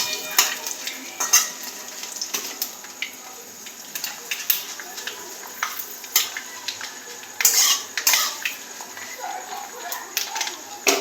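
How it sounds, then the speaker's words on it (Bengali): Panch phoron, bay leaf and dry chilli sizzling in mustard oil, a light crackle broken by clanking utensil knocks and scraping against the pan, with a voice speaking at times. "পাঁচ ফোড়ন, তেজপাতা, শুকনো লঙ্কা সরষে তেলের মধ্যে দিয়ে দিলাম।"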